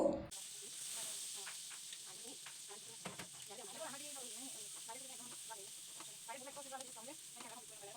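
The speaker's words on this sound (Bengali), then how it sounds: "পেঁয়াজ কুচিটা দিয়ে আমি একটু পেঁয়াজ কুচিটা ভেজে নিব" Chopped onion fries in hot oil with a bay leaf for an egg curry, giving a quiet, continuous sizzle and hiss with occasional stirring. Someone talks over the frying.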